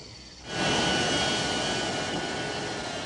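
An airplane arrives at Lima, Peru: after a brief quiet moment, a loud, broad jet roar swells in and holds steady, close and dense, with no voices.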